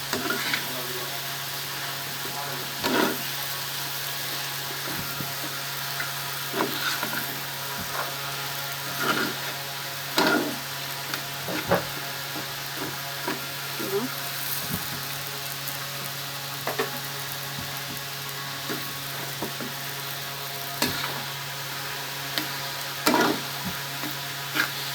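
Pieces of elephant foot yam frying in a pan: a constant close sizzle with scattered clicks and scrapes of a utensil stirring, steady throughout, with faint speech underneath.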